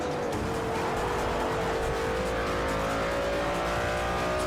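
Audi R8 engine in Forza Motorsport 4 roars steadily at high revs throughout, a sustained racing drone with rising harmonic whine and hints of tire squeal, close and loud with no talk.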